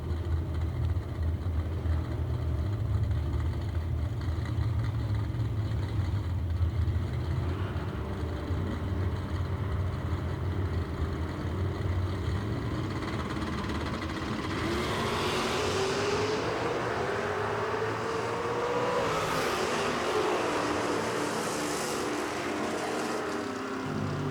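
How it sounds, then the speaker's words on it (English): A 1968 Camaro and a Ford Fairmont drag racing at a drag strip, a sustained loud engine roar heard from a distance, with a rising sweep as the cars pass, continuous throughout and no voices. "Ray Babb bringing up the 68 Camaro and the Ford Fairmont"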